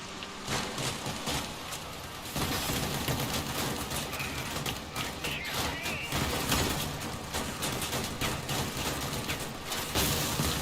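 Auto cannons fire in rapid bursts during vehicle combat in the game Crossout, a dense crackling barrage that starts, pauses and resumes, layered with other battle noise and voices.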